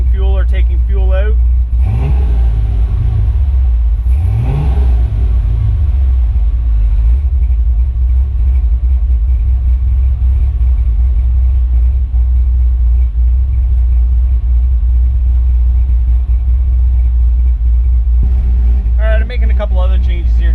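A car engine tuned with a Holley Terminator X idles with a loud, steady low rumble, revving up and back down twice near the start before settling into a constant drone, with someone talking over it.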